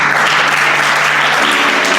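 Steady, dense applause for the second-place winner in the senior category of a Vedic recitation gathering, filling the short stretch from start to finish with no break.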